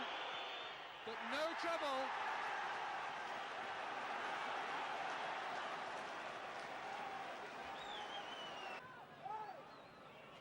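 Football stadium crowd roaring in sustained protest over a penalty decision, a broad distant wash of noise with whistles rising through it and a commentator talking over the top.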